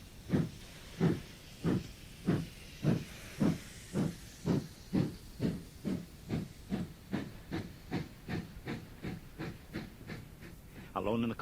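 A steam locomotive chuffs in a steady rhythm of heavy exhaust puffs that gradually speed up and soften, with a brief sharp hiss near the end.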